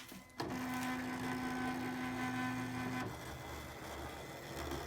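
An electronic fabric cutter cutting appliqué shapes hums steadily with a faint whirring motor tone, fairly quiet and close, shifting slightly about two-thirds through as the cutting pass changes.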